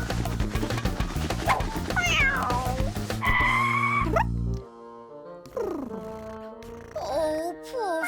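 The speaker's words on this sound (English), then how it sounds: "Stupid cat, get off!" A cartoon cat lets out several loud, drawn-out meows and yowls among scuffling and music, with brief pauses between the calls.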